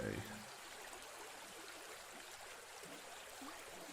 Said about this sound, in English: That river's a little loud.